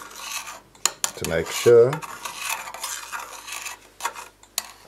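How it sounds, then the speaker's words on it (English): A thermometer stirs gently in a pot with light metallic clinks and scrapes, a few louder knocks near the middle, while a person speaks over it. "now I will stir gently with the thermometer"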